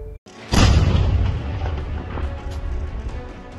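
An army detonation of a suspected IED on the Baramulla-Srinagar highway near Sopore, Baramulla district: a sudden loud boom after a brief silence, then a long rumbling, crackling tail.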